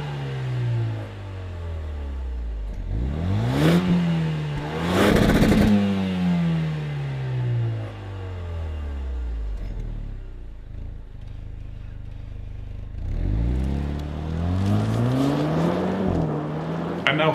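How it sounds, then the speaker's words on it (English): A 2020 Jaguar F-Type P450 with its V8 revs repeatedly, loud rising and falling engine sweeps with sharp throttle blips and crackles, quieter idle between bursts, close by. "you can actually check out what this 2020 F-Type sounds like right here"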